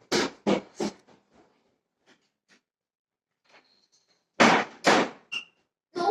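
Household doors being shut in a home: two or three sharp, loud thuds up front, a quiet stretch with faint clicks and a brief squeak, then another cluster of close, heavy knocks and bangs near the end.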